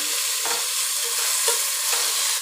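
Onion and tomato sizzle in a pan for green peas pulao, a loud, steady hiss broken by stirring scrapes about every half second.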